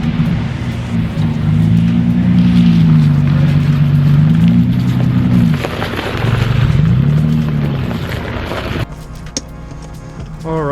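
Nissan S14 drift car engine idling and revving nearby, a loud steady tone with rising and falling revs, briefly dipping midway before cutting to quieter rattling and clicks near the end.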